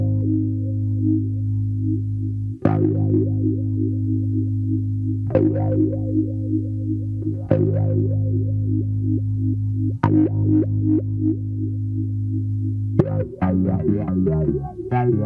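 An electric guitar runs through a Flower Pedals Hosta Wah pedal. A sustained, droning tone carries filter sweeps, struck anew every couple of seconds, before a busier run of notes near the end.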